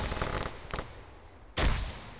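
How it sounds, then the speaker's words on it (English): Video game gunfight in a capture-the-flag match: two sharp, loud explosive bursts, the first around three-quarters of a second in and a heavier grenade blast near the end, over a steady crackling background din. "Pogo dying by a nade, Lolo dying by gunfire"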